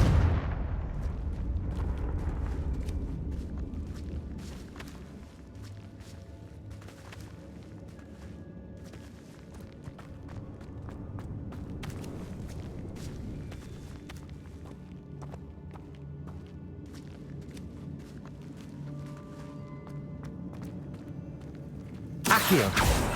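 Confringo fire-spell blasts in Hogwarts Legacy, played on Xbox cloud gaming: a dense run of booming impacts and rumbling bursts with footsteps mixed in, and a sharp loud blast at the very end.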